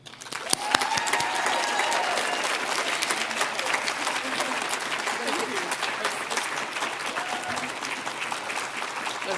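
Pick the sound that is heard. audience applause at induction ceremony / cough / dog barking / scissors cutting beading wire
audience applause at induction ceremony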